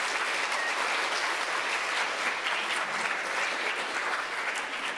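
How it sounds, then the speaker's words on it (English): A crowd applauds steadily for a former Philadelphia mayor, district attorney and Democratic National Committee head at a citizenship competition event, dense even clapping sustained throughout without any voices. "Let's give him a round of applause."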